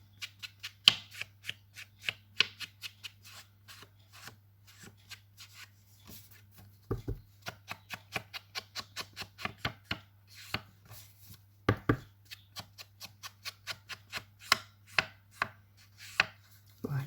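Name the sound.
inking background paper for a card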